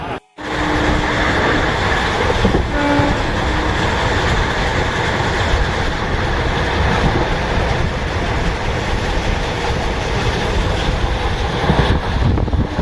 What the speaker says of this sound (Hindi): ट्रेन लगभग 1 घंटे की देरी से चल रही है।